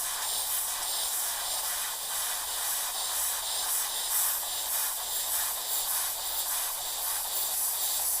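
Airbrush spraying paint while a stencil artwork of the Antonov An-225 Mriya is blended: a steady, close airy hiss that holds evenly throughout with no talk.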